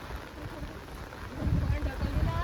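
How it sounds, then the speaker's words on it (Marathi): Heavy rain pours steadily over a village during a flooding downpour, a dense broadband hiss that swells louder partway through, with low rumbling underneath. "पाऊस कंटिन्यू चालू आहे"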